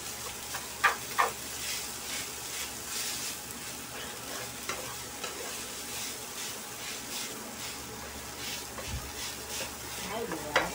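Hungarian sausage sizzles steadily in a frying pan while a utensil stirs it, giving a constant crackling hiss broken by a few scraping, clinking stirs, close by and with no talk.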